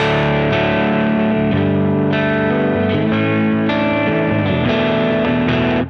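A sustained, distorted lap steel guitar minor chord in open D tuning rings out with effects and a slight chorus shimmer, shifting between a few chord voicings over several seconds, no voices.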